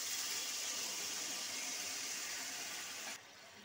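Water pours into a pot of potato curry being cooked, a steady rushing hiss that cuts off abruptly near the end.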